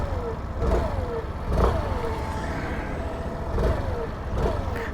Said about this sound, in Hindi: अब हम आपको सुनाते हैं हल्का सा एग्जॉस्ट नोट।